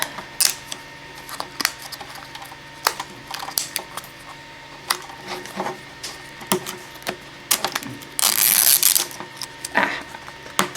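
Inner layer of a toy robot box being peeled off, giving soft crinkling and tearing rustles with scattered clicks, building to a louder, sustained rip of packaging near the end, close up with no talk.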